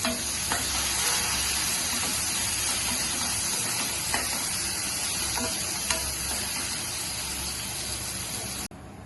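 Onion, capsicum and green chilli sizzle and fry in a hot pan for roti noodles, a steady close hiss of frying with occasional soft stirring clicks and no talking.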